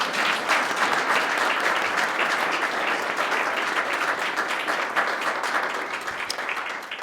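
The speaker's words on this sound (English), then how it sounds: "let's hear it for Tim." An audience at an honors night gives an award winner sustained, dense applause, loud and even throughout with no voices over it.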